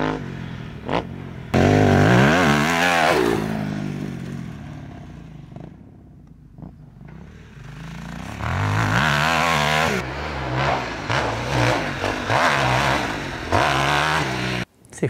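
An Aprilia 450 MXV twin-cylinder off-road motocross bike, engine loud and close, revving up and down in repeated surges with a quieter dip in the middle before climbing again.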